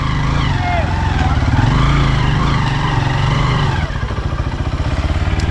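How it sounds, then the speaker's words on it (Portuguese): A motorcycle rides downhill on a rural farm track near a creek, a loud, close, continuous engine drone with rattling clatter, the revs dropping and turning choppier near the end. "vamos ver se eu desço aqui de moto"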